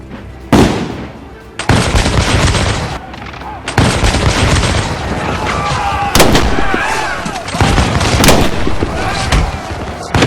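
Dramatized musket fire from the battles of Lexington and Concord at the start of the American Revolution: loud, close volleys and repeated booming shots crowd together in dense bursts, with shouting voices mixed into the battle din.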